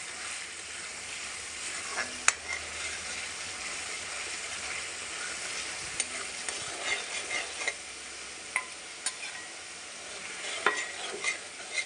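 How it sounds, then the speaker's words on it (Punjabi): Tomatoes roasting in a pan for a green chickpea curry, a soft steady sizzle with sharp scrapes and taps of a spoon stirring at irregular intervals, no speech. "ਇਹਨੂੰ ਆਪਾਂ ਇੱਕ ਦੋ ਮਿੰਟ ਲਈ ਚੰਗੀ ਤਰ੍ਹਾਂ ਭੁੰਨ ਲੈਣੇ ਟਮਾਟਰਾਂ ਨੂੰ"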